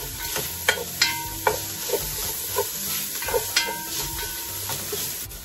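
Chicken pieces stirred in a pot for a Vietnamese pho-style chicken noodle soup, with a steady sizzle under repeated sharp scrapes and clacks of a utensil against the pot, close and fairly loud.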